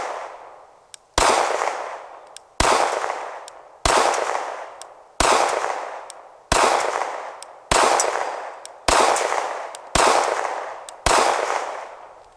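A frozen Glock pistol fires about nine sharp, loud shots spaced roughly a second or more apart, each crack followed by a decaying echo outdoors, with no talking.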